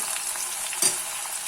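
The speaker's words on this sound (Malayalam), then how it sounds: "ഇപ്പം വെളിച്ചെണ്ണ നല്ലോണം ചൂടായി വന്നിട്ടുണ്ട്. അതിലേക്ക് ആ ഉള്ളി ഇട്ടിട്ട്" Chopped onions hit hot coconut oil in a pan, raising a steady, close crackling sizzle with a brief louder burst partway through.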